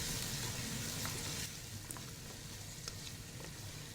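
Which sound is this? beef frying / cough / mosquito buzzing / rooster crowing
beef frying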